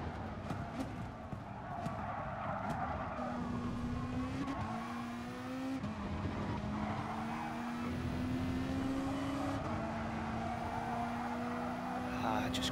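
Race car engines in GT Sport roar steadily, with rising and falling gear pitch as the cars pull away and shift, loud and continuous while a commentator talks over them.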